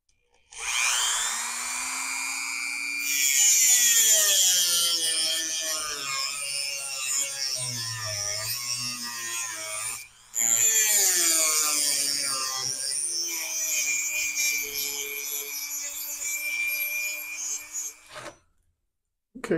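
A Dremel rotary tool grinds at a rivet on the lower jaw of a cheap vise grip, a shrill whine that shifts in pitch as it bites, running in two long close bursts split by a brief pause.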